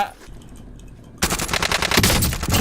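Rapid automatic Krig 6 rifle fire in Call of Duty Warzone: after a quiet stretch, a loud, close burst of dense gunshots rattles on continuously, with a voice talking over it.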